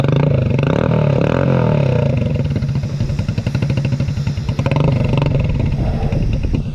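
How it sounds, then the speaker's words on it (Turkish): A motorcycle engine starts up after being washed and settles into a steady, loud idle with a throbbing, pulsing exhaust note. It runs close by for the whole stretch with no talk over it. "Bakalım motoru bir çalıştıralım."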